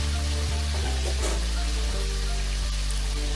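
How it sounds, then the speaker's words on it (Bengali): Five medium potatoes fry in hot oil with bay leaves and hing, a loud, dense, steady sizzle heard close up with occasional pops, while a voice talks faintly under it. "তারপর ওইগুলো দিয়ে আমি 5টা মিডিয়াম সাইজের আলু এখন ফ্রাই করে নেব।"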